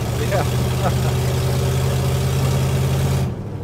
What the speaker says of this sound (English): You can hear that engine roar.